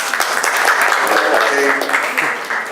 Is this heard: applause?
yes